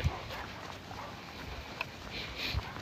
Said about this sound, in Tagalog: Tapos may mga kasama kang ganyang aso.